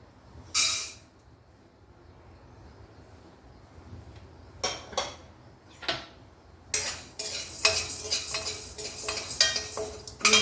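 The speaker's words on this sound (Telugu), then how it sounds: "మనం వేరే వేయించుకుందాం ఇప్పుడు ఈ రెండు పప్పులు వేస్తాం" Two kinds of lentils dry-roasting in a pan, heard as scattered bright rattling scrapes and clinks of a utensil against metal, sparse at first and then denser toward the end, with no talking.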